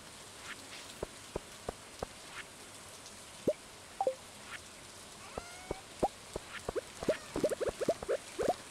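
Rain in the video game Stardew Valley, scattered raindrop plops and taps, sparse at first and then denser and busier toward the end, with no talking.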